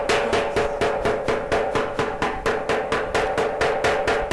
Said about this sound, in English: now I've probably done hit that pot 400 times